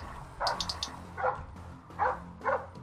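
Dog barking in the stealth video game Splinter Cell: Blacklist, four or five short, fairly quiet barks spaced irregularly over a few seconds, heard alone without talk.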